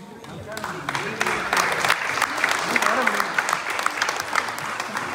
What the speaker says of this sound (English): Everyone clap your hands for Heather Keane, everybody.